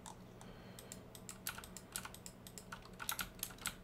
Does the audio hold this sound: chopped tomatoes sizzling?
no